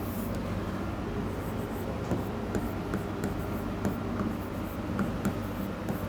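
A question is written on a board during a reasoning class, heard as faint scratchy strokes that come in irregular taps over a steady background hum, with no talking.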